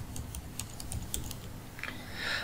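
Keys on a computer keyboard are tapped in a quick, irregular run of light clicks, fairly close, over a faint room hum with no talk.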